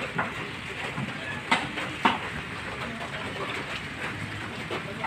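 Heavy rain pours steadily at a construction site, a dense hiss of falling water with a few sharper knocks and splashes against surfaces, fairly close and without talk.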